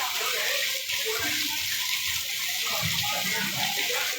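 Heavy rain shower pouring down in Sacapulas, Quiché, Guatemala during an anniversary event, a steady loud broadband hiss of falling water throughout, with muffled voices of people sheltering underneath.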